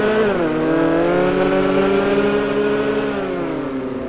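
A Ferrari California sports car in GTA 5 roars past close by, a loud steady engine note that rises and then drops in pitch as it goes by, with no talk over it.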